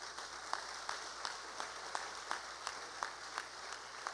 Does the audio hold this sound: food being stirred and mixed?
no